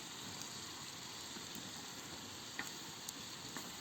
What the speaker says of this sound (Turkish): Ondan sonra yağını döktük. Soğanı döktük. Azıcık kavrulsun.